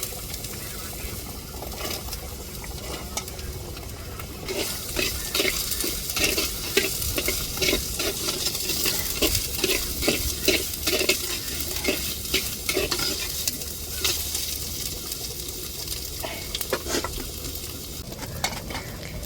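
Onions sizzle and crackle in a hot pan while being stirred for a pepper quail fry, with scraping utensil sounds over a continuous frying hiss.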